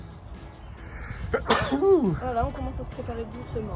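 A single sharp sneeze bursts out nearby, with someone speaking French before and after it.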